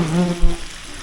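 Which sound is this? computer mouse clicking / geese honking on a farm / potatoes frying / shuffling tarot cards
potatoes frying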